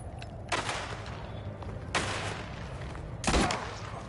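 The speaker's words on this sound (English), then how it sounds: "I can hear more gunfire there." Three booming gunshots from the video game Mafia: The Old Country ring out at spaced intervals over a constant rumbling background, each with a sharp crack and a short decaying tail.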